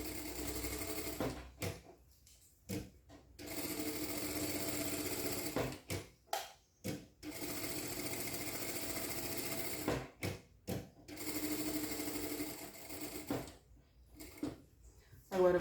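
A sewing machine stitching bias binding onto a baby bib, running in short bursts with quick stops and restarts for backstitching, close and clear with brief quiet gaps between runs.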